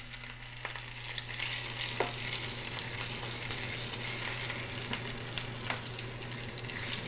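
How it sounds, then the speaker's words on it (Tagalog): Garlic and chili frying in hot oil in a pan, dense, even crackling sizzle running continuously at close range with small pops, no talking. "Fried garlic"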